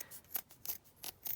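Scissors snip and tear along the edge of crochet lace in four quick, crisp strokes at a steady rhythm, close and fairly quiet with no talking.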